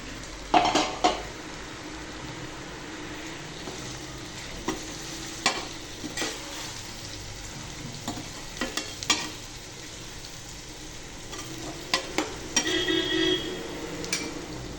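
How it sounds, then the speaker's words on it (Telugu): Deep-fried ginger and garlic being added to oil for prawn pickle, with a low background sizzle broken by scattered sharp clinks and scrapes of a spoon stirring against the pot. "ఈ డీప్ ఫ్రై చేసినవి అల్లం వెల్లిగడ్డ నూనెలో వేసేయాలి."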